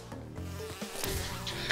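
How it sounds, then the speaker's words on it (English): A bee in the video game Crash Bandicoot 2, N. Sane Trilogy, gives a steady, close buzzing drone lasting under two seconds, mixed with game effects and no talk. "be ready for a bee back here"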